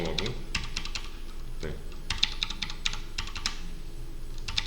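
Computer keyboard keys clatter in quick, uneven bursts during typing practice, with crisp close clicks running throughout and one short spoken word.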